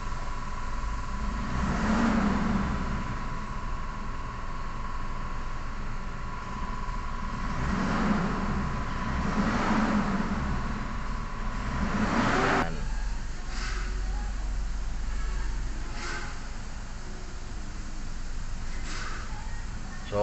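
Mitsubishi Montero Sport engine with a check-engine fault and low power, revved with the accelerator floored; a steady droning engine note swells in several broad surges, then settles to a lower, rougher hum with faint knocks.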